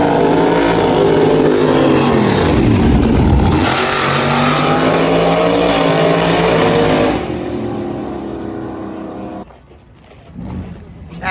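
IROC Z drag race car making a full-throttle pass in an Ultra Street class, a loud, sustained engine roar with rising pitch that drops off after about seven seconds as the driver lifts, fading toward the end.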